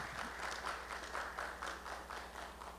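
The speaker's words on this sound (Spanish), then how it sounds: "quiero que le demos un fuerte aplauso" Faint applause from an audience at a university journal launch, honoring a student who won an academic excellence award, heard as soft rhythmic clapping with a low hum underneath.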